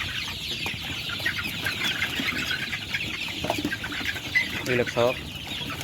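Sonali chickens clucking and calling in a farm shed, a busy continuous chorus of overlapping clucks and chirps close by, with occasional wing flaps and someone speaking briefly near the end.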